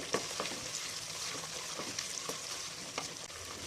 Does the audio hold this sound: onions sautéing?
yes